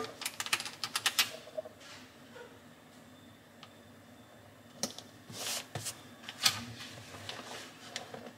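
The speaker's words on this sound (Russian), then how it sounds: "Закрываем. Заклеиваю скотчем." Packing tape pulled off the roll and pressed down to seal a cardboard parcel box: bursts of sharp ripping and crackling, close and loud, in irregular clusters separated by quieter handling noise.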